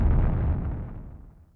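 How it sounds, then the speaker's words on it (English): A sound-design explosion filtered to keep only the low end below 1.7 kHz, a single dark, rumbly boom with no bright crackle, starting strong and fading out over about a second and a half. "I just wanted that low crumbly rumbly, not the high shredding distortion."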